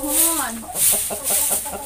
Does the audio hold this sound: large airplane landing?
no